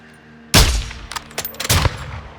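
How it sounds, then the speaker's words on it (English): Sniper rifle shots in Call of Duty Modern Warfare 2: one loud, sharp blast followed by a second heavy report and a few quieter cracks, with a low game soundscape underneath. "of all the sniping we are doing here"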